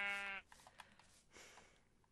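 A Minecraft sheep gives one short, clear bleat at the start, followed by quieter scuffling and background noise.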